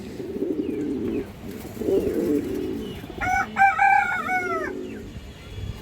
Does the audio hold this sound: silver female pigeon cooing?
yes